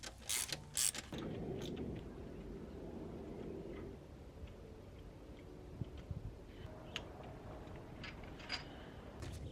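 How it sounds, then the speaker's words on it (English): A ratchet clicks rapidly while torquing down spark plugs on a Ford Ranger, a close mechanical ticking that runs almost continuously with a few heavier knocks near the start. "All spark plugs are done and torqued down."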